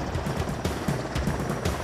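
A firefighting helicopter sounds close and loud, with rhythmic rotor blade thumping chopping steadily through under two seconds over a constant engine roar.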